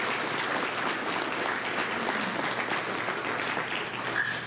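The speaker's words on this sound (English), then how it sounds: "I think we should give her a big round of applause" An audience at a tribal economic outlook conference breaks into an even, sustained round of applause, many hands clapping steadily at moderate loudness.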